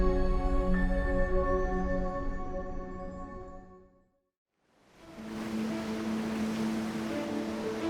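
The 3,000-ton ship Stril Explorer sails east at 6 knots on the Black Sea, a steady engine drone and rushing wave wash filling the first half before a brief drop to near silence, then surging water and hull noise return.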